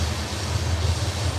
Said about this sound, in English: but that train should be gone any second.